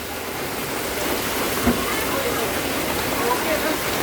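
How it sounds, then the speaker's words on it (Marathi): Torrential rain from a cloudburst hisses as a thick, unbroken wash of sound, loud and close, with one brief knock partway through. "फार जोरात पाऊस चालू आहे"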